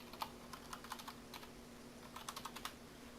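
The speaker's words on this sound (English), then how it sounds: "So if I just go ahead and type in storage" Quiet, close clicking of keys on a computer keyboard, with two short bursts of typing separated by a brief pause over a faint steady hum.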